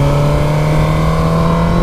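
A Suzuki GSX-R motorcycle rides along an Alpine road, its engine a loud, steady, close drone with a constant tonal hum and wind rush and no break in the sound.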